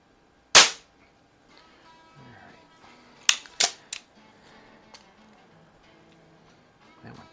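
A Baikal IZH-46M air pistol fires at a 10m target with a loud sharp crack, followed by a cluster of smaller clicks and snaps and a final faint knock, with quiet pauses between.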